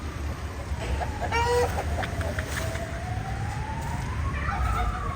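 Roosters in a farm shed give scattered clucks and short crowing calls at middle distance over a loud, steady background hum, with no talking.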